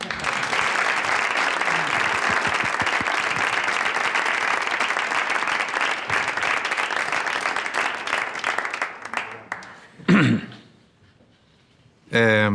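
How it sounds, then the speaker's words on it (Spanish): An auditorium audience at a talk by a teacher gives sustained applause, a dense, loud clapping that holds for about nine seconds before thinning out, followed by a voice speaking near the end. "Un aplauso a José Ángel."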